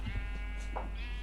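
A sheep bleats in the Minecraft Sheep Quest mini game, a wavering tone that swells midway through a short stretch with a steady low hum beneath and no talk.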